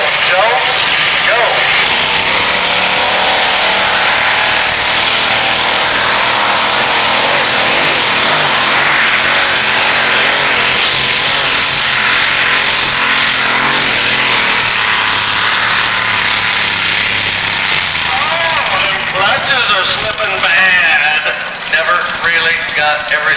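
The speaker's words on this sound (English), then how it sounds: "It sounded good, motor sounded good and smooth" A pulling truck with an engine under 400 cubic inches revving hard at a Grand National truck and tractor pull, a loud, sustained, smooth roar rising in pitch, with an announcer talking over it.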